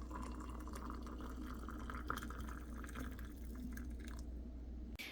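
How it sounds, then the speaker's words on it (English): Boiling water pours over raw cashews in a steady, faint liquid trickle against a low background hum. "you can pour some boiling water on top and let it sit for a while until they soften"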